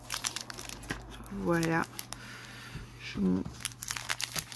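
Trading card booster packs for Règne de Glace are opened by hand, the foil wrappers crinkling and tearing in short bursts over a steady low hum, with a person speaking briefly.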